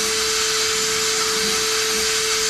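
Compressed air hisses in a steady, loud rush from a sandblaster cleaning car hardware and splash shield parts for a 1972 Dodge Challenger restoration, with a constant whistling tone throughout and no pauses.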